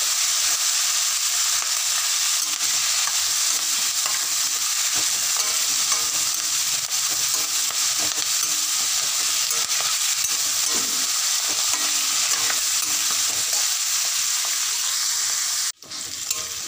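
Thoothuvalai leaves for chutney sizzle and fry steadily in a hot pan, with faint stirring, as the green leaves wilt. The sound is close and continuous and stays unbroken with no talk.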